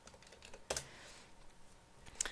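Someone types on a computer keyboard, giving a few faint, close keystrokes and clicks with a louder tap near the start and another near the end.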